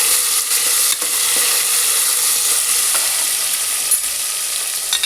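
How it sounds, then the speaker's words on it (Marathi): Tomatoes sautéing in a hot pan for egg biryani, a loud, steady hiss of sizzling with occasional stirring scrapes, close up and continuous, no voices. "आता आपण यात टोमॅटो टाकूया, छान परतून घ्यायचे।"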